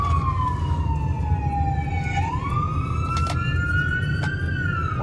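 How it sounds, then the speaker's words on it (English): Ambulance siren wailing in long rising and falling sweeps over a steady low road rumble, loud and fairly close, with no talk. "We've got an ambulance coming."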